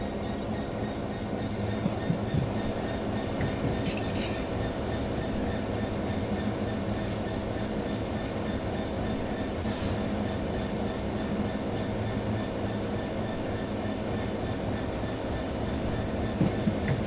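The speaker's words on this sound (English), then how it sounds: "The train will then coast on level ground, and the train will only slow down very gradually." Train coasting on level track with the throttle at zero in Train Sim World 3, a steady, close rumble of wheels and carriages on rails with faint occasional squeals and clicks and no talk.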